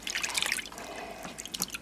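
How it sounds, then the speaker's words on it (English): Small vintage 1950s doll parts drop into a basin of clean water, giving a close cluster of bright splashes and drips followed by a lighter trickle and a few more droplets. "now we're just going to put them back into the clean water"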